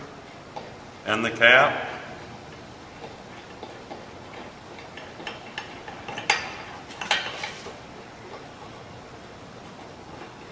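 A ratchet with a 3/4-inch socket removes cap screws from a progressive cavity pump, making quick ticking clicks in short runs beneath a man's close speech.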